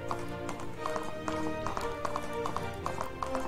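Galloping horse hooves in a video game: quick, even clip-clop beats repeating throughout at moderate volume, over sustained tonal background sound.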